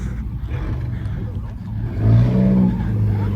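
A sports car engine at a car meet in the Swiss mountains rumbles low and steady, then swells into a louder rev partway through, with the engine noise dominating throughout.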